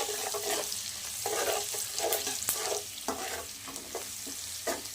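Onions frying with salt in hot oil in a pan for a katla fish curry with eggplant and potato, a close, steady sizzle broken by the repeated scrape and clatter of stirring, with no talking.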